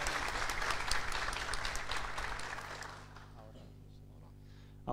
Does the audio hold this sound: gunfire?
no